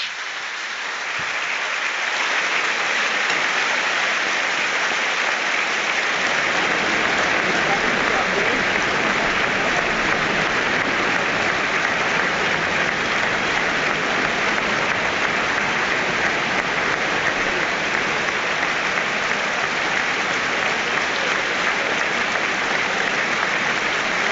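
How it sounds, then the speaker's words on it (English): A packed stadium crowd at Stamford Bridge applauds in tribute to Roger Hunt, rising after a quiet first moment into loud, sustained clapping that holds steady throughout. "everybody remembers the former Liverpool striker, the World Cup winner, Roger Hunt, in a moment of applause here at Stamford Bridge"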